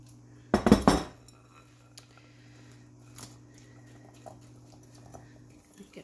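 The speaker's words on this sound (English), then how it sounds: "just mix that around a little so every blueberry is somewhat coated" Blueberries tossed in a bowl with sugar and lemon juice for blueberry pie bars give a short, close burst of clinking, scraping stirring, followed by faint occasional taps over a steady low hum.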